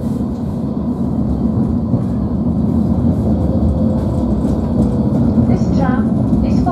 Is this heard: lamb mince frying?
no